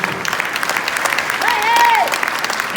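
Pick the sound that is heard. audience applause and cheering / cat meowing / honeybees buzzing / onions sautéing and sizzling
audience applause and cheering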